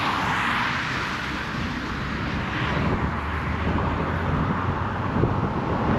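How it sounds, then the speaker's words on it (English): An airplane takes off near Yungaburra in Far North Queensland, Australia, its engine a loud, steady, broad roar that holds for the whole stretch, heard alone without talk. "come out here and watch the planes take off"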